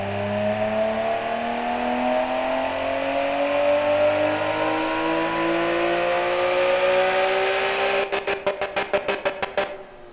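In the Automation video game, a car engine revs hard, its pitch climbing smoothly toward 7,800 RPM, then ends in a run of sharp, rapid pulses like a rev limiter stutter, loud and alone.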